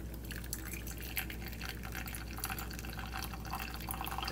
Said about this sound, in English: And we'll pour that in.